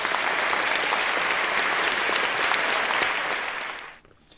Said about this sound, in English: Oh yeah, it's the applause.